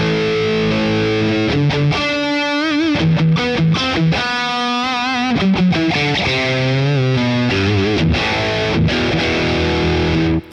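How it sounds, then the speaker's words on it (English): An electric guitar played through the distortion setting of a Boss Katana amplifier, with loud, saturated chords and single notes strummed in a continuous riff that cuts off abruptly at the end. "you want to have your distortion sound a bit louder than that"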